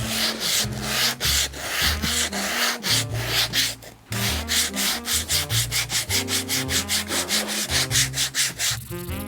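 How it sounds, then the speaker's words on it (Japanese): Sandpaper rubs a leather shoe sole in steady, fast back-and-forth strokes, loud and close, with a brief pause near the four-second mark before the rhythmic scraping resumes on a handmade Italian-style dress shoe. "次サンドペーパーでより滑らかにしていきます。"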